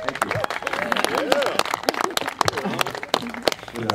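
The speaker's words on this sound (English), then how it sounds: "With an applause like that, I don't think I need to say any more." Wedding guests applaud in a reception hall, a burst of clapping and cheering mixed with crowd voices and talking over it.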